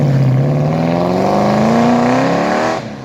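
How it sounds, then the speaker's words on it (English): A 1971 Ford XY Falcon GTHO Phase 3 pulls away with a loud, close engine roar whose pitch climbs steadily as it accelerates, then cuts off sharply near the end. "We'll listen to this car head off."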